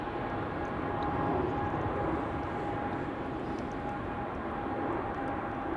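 A KLM airliner takes off at Amsterdam Schiphol, heard from outside as a steady, distant broadband jet roar with a faint whine that holds throughout.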